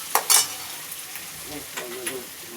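Potatoes hit hot oil in a pan for Gujarati-style potato curry, with a couple of sharp clatters at the start followed by a soft, steady sizzle and faint stirring.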